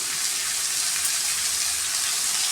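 Ivy gourd (kovakkai) sautéing in a pan gives a steady, bright hissing sizzle that runs evenly and close throughout, with no talk.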